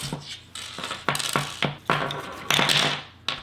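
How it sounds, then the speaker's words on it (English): Small plastic skate boot sliders rattle and clatter in their packaging, a series of bright, close, uneven bursts of clicking with short pauses between shakes. "I think these are the boot sliders. That's what they sound like."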